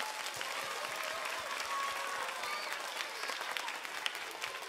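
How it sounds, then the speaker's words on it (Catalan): Theatre audience applauding during a children's cantata performance at the Teatre Monumental in Mataró, a steady, even roar of clapping from a large crowd at moderate volume. "un aplaudiment per ells. Més fort,"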